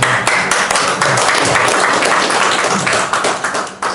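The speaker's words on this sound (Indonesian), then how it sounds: "Kita berikan aplaus dulu." Loud, sustained applause from an audience at an Indonesian public event, dense clapping filling the whole moment and tapering slightly at the end.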